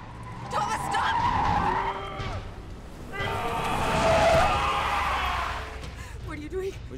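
A car in a film scene drives hard and skids, with two long bursts of tire squeal over engine noise, the second louder and longer, as voices shout over the action.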